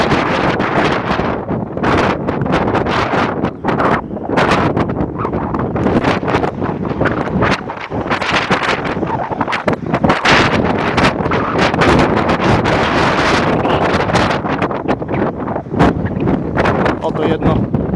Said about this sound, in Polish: dosyć silne wiatry